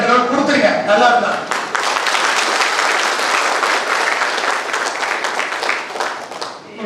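A stage-show audience gives loud, sustained applause, dense clapping that swells and then fades over several seconds, with a voice heard briefly at the start.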